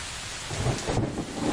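Heavy cartoon rain hisses steadily over a forest scene while a low rumble of thunder swells beneath it, loud and close with no voices.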